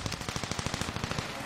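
Video game gunfire rattles in a fast, evenly spaced automatic burst of sharp shots, loud and up front across a short stretch.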